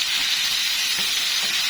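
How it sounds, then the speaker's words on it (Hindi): Taro root (arvi) frying in hot ghee and oil gives a loud, steady, close sizzle and hiss that stays unbroken throughout. "ये अरबी मैं इस घी में, इस ऑयल में डाल लूँगी"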